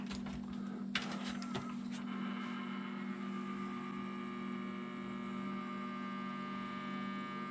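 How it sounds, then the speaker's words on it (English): Steady electrical hum from a wireless computer dongle device in a workshop, a constant low drone with a few brief clicks near the start and no talking. "It hums, makes a noise."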